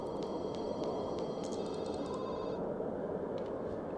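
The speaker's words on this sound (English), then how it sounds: "Gotta answer the phone." An in-game telephone rings in The Sims 2, its bright repeated tones sounding in short bursts over a steady bed of game music or ambience.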